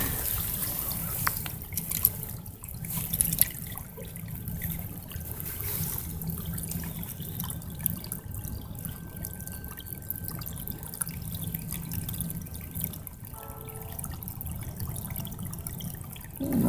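Creek water runs and trickles steadily while an object is rinsed in it outdoors, with soft splashes and drips over a continuous low flow, fairly close and moderately quiet.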